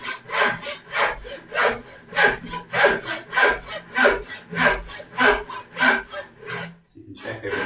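A hand saw cuts a wooden joint with a steady run of about a dozen close, rhythmic back-and-forth strokes, each rasping push clearly separated, before the sawing stops near the end.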